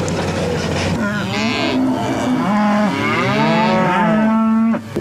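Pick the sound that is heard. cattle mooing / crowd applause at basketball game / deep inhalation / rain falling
cattle mooing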